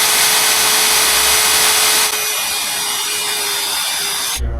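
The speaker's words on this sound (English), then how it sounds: "We're getting the mounting holes drilled out for the winch. These holes right here. I'm using a mag drill." Magnetic-base mag drill boring mounting holes for a winch in hard steel on an off-road wrecker, a loud steady broadband whine and grind that continues unbroken, easing slightly partway through and cutting off at the end.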